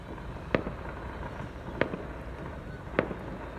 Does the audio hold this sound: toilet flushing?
no